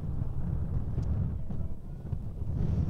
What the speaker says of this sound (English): it's a little windy here in Farnham, Surrey, a little bit gusty in the booth here